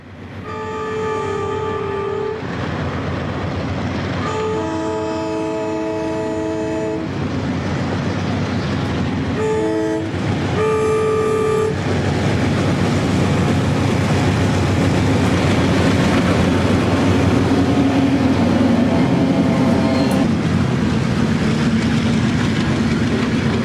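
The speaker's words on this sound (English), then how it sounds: "Here's train R313 on another day at Campbellsburg, with General Electric and General Motors power, heading into the siding near the former station." CSX freight train R313 with General Electric and General Motors locomotives at Campbellsburg, heading into a siding near a former station: loud horn blasts in several separated bursts over a steady rumble of engines and rolling cars, with no talk.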